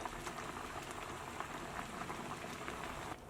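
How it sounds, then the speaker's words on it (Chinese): Soup thickened with starch boils on high heat, a dense, steady bubbling like rain on a surface, quiet and continuous, with no talk. "再次大火烧开"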